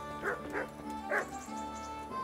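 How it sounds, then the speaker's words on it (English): A dog in the medieval role-playing game Kingdom Come: Deliverance gives three short barks, two in quick succession and one after a pause, fairly close over a soft, steady game background. "My dog."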